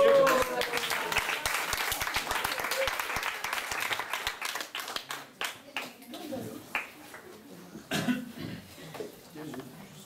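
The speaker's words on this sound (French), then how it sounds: "On peut quand même les applaudir." An audience at a cabaret-style show applauds, a dense burst of clapping that thins into scattered claps, with a few coughs and murmurs as it fades.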